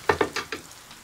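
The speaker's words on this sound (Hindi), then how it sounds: "हम मसाले सारे शामिल करेंगे और इसको भून लेंगे" Spices for sarson ka saag stirred and fried in a pan, four short scraping, sizzling bursts close by, then a faint fifth.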